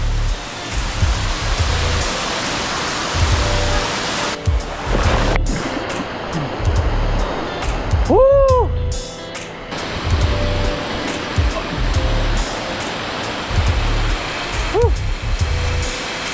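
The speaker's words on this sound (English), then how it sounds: "Falls is looking great, even with low water." Waterfall running at low water on a forested stretch of the Mindanao coast in the Philippines, a steady close broadband rush through the whole stretch, with a couple of brief whistle-like tones and faint voices over it.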